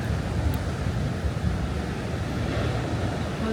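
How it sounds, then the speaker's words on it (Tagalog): Ocean waves at a Siargao surf spot roll in as a constant broad wash of surf, mixed with wind buffeting the microphone. "Ang laki ng alon."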